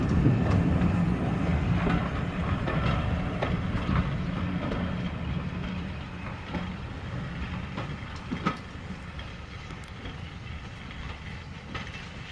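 A heritage train pulls out of Levisham station on the North Yorkshire Moors Railway, a steady low rumble of wheels and carriages with light clickety-clack, fairly close and continuous, no voices.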